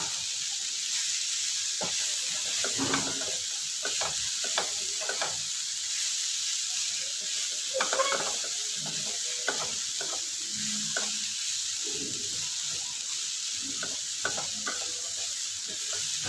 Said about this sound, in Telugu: కాకరకాయ ఫ్రై ఇది నేను అన్ని మసాలాలు వేసుకొని బాగా ఫ్రై చేసుకోండి